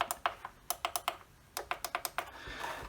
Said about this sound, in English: let's check that the buttons click.